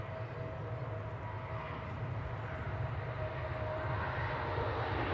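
A jet airliner climbing after takeoff from Manchester Airport, its engines giving a steady, continuous broadband roar with a low rumble that swells slightly over the few seconds, heard alone without voices.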